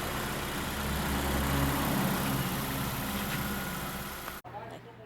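A 2008 Honda Fit engine idles steadily and close by, with a low, even hum. The idle stops abruptly near the end, leaving a fainter background.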